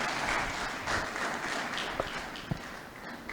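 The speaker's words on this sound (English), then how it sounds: "A round of applause" An audience at a university international guest lecture gives a round of applause, a steady, moderately distant wash of clapping with a couple of sharper individual claps near the end.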